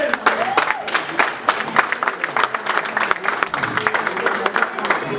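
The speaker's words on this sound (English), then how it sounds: "And that deserves a round of applause." A crowd at an awards ceremony breaks into sustained applause, dense and continuous with scattered cheers and voices mixed in throughout.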